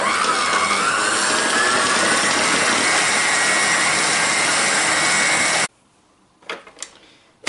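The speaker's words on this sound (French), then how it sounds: "Donc on va fouetter ceci jusqu'à l'obtention d'une crème genre chantilly." An electric mixer whisks cream toward a chantilly consistency, a loud steady whine held for over five seconds before cutting off abruptly, followed by a few faint clicks and handling sounds.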